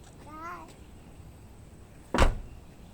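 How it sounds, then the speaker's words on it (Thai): A 2008 Mitsubishi Lancer with a 1.6-litre engine has its car door shut once, a sharp solid thud near the end, preceded by a brief voice. "ปิดประตูให้พ่อหน่อย"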